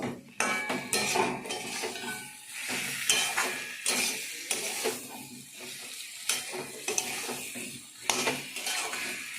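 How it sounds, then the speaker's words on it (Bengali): Fried potatoes being stirred into cooked spice paste in a pan, repeated scraping strokes of a spatula against metal in an irregular rhythm over a low sizzle, close and clear. "এর মধ্যে আমি এই ভাজা আলুটা ছিল দিয়ে একটু নেড়ে নেব"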